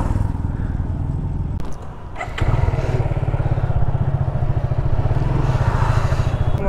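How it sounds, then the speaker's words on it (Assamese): A motorcycle taken on a highway toward Tezpur University drones with a steady, close engine note, briefly dipping and then rising again as it picks up speed, with no talk over it. "বহুত দিনৰ পিছত এইটো ৰাস্তাত এতিয়া বাইক চলাই আছোঁ।"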